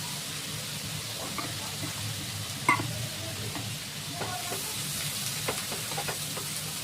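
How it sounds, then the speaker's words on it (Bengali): Onion frying in oil in a pan, a steady soft sizzle with occasional stirring scrapes and one sharper clink, close and fairly quiet with no talk. "পেঁয়াজটা একটু ভালো করে ভাজতে হবে। তেল দিয়ে দেবো।"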